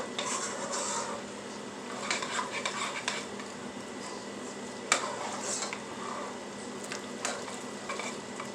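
Mac and cheese stirred in a pot after milk is added, soft scraping and clinking of a utensil against the pot with faint sizzling underneath, fairly quiet and close.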